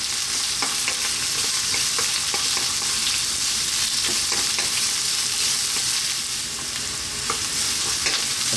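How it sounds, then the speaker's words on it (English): Onion fries in a hot pan with garlic and ginger for mushroom fried rice, a loud continuous sizzle broken by repeated scraping and clacking strokes of a utensil stirring, close up and without talking. "I'm going to pop in our onion. 3 minutes, keep it moving."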